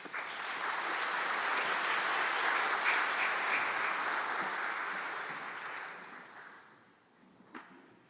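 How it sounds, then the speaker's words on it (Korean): A church congregation applauds a visiting pastor at a 47th anniversary worship service, a steady, full round of clapping that swells, holds for several seconds, then tapers off to a few scattered claps. "여러분 감사의 마음 우리 담아서 나오실 때 우리 박수하시겠습니다"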